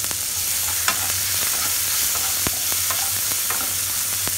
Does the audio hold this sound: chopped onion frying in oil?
yes